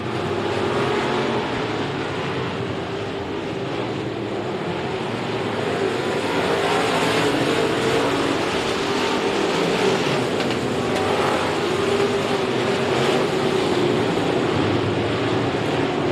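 Outlaw Modified race cars circle the track at Kennedale Speedway, their engines forming a dense, continuous roar that stays loud and steady throughout without a break.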